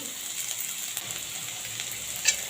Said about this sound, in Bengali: পেঁয়াজটাকে একটু হালকা করে ভেজে নেব আর দিয়ে দিচ্ছি রসুন কুচনো